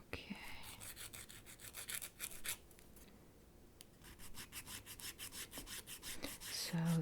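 A two-sided nail file rasps across fingernails in quick, close, repeated strokes with a short pause midway, soft and crisp in a quiet room.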